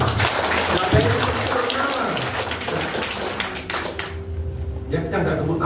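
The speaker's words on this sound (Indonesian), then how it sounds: "Tepuk tangan kita." Seminar audience applauding with dense, steady clapping throughout. The clapping thins toward the end while a speaker's voice continues over it.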